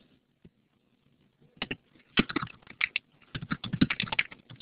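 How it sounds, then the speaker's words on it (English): Quick, close clicking of keys on a computer keyboard as a message is typed, starting with a few isolated taps and building into irregular bursts of rapid keystrokes. "So I'm just typing a message."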